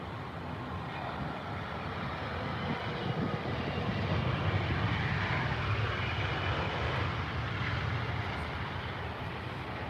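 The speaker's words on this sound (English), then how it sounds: "It's one of the older, much older in fact, A320s for British Airways." A British Airways Airbus A320, one of the older ones in the fleet, rumbles steadily past at Heathrow, a broad, continuous jet roar at moderate distance with no voices.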